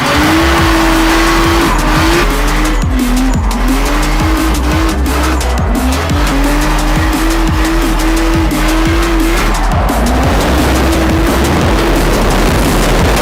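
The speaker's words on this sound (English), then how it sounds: "Some yoke to melt tires!" A car with a holed radiator does a burnout, its engine revving hard in repeated rising and falling waves while the tires squeal and skid loudly and continuously up close.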